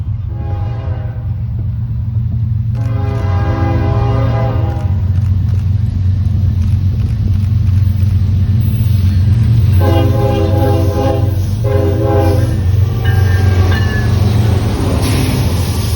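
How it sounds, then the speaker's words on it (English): An East End train rumbles steadily past at close range, its horn blasting in several long, loud sustained blows over the continuous heavy roll of the wagons. "Our final catch of the day was an East End train"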